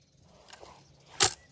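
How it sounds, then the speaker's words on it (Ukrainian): A single sharp, short shot from an IZh Baikal air rifle cracks out near the end after a quiet moment, close and fairly loud. "і четвертий і останній постріл"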